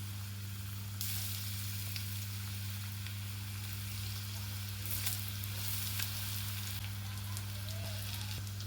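Bitter gourd slices coated in gram flour and rice flour fry in oil, giving a steady close sizzle with a constant low hum underneath and occasional brighter crackles and pops.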